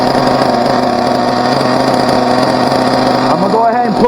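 A Team Associated RB nitro RC car engine runs during break-in, a steady high buzzing whine with strong harmonics, loud and close, while a person talks over it toward the end.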